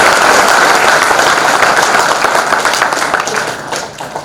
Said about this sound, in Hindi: तो अगर अच्छा कर रहे हैं तो तालियां बजा दीजिएगा।